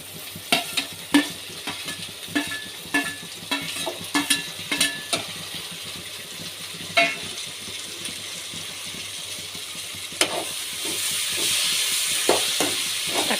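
Tomatoes sauté in oil with onion, ginger and garlic for a prawn gravy, giving a steady sizzle broken by repeated sharp scrapes and taps of a spoon stirring the pan, with no talking.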